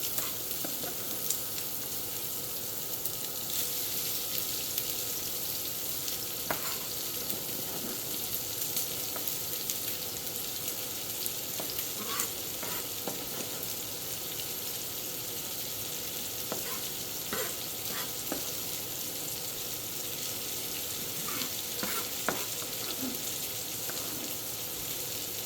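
Chopped onion sizzles in a pan as it fries for a roasted cherry tomato pasta sauce, a soft, steady hiss broken by occasional scrapes and taps of stirring.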